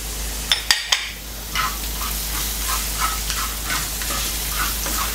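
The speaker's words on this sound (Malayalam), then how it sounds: "ഈ ഇഞ്ചി കട്ട് ചെയ്തത് ആഡ് ചെയ്ത് കൊടുക്കും. വെളുത്തുള്ളി കട്ട് ചെയ്തത് ആഡ് ചെയ്ത് കൊടുക്കും." Chopped ginger and garlic go into hot coconut oil for Chettinad pepper chicken, giving a few sharp clatters and then a steady low sizzle with light stirring scrapes, close and alone.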